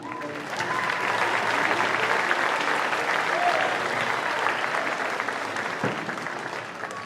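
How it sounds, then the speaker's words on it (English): A high school concert band in a gymnasium receives sustained, steady audience applause lasting the whole stretch, dense and fairly close, with a few voices mixed in. "Big round of applause for our concert band."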